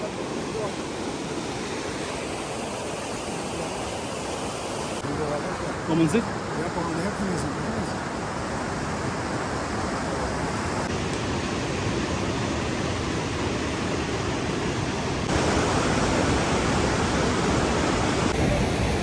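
Loud, steady rush of water and breaking waves at Dumail, a broad continuous roar with a brief splash near the middle; a voice speaks briefly over it.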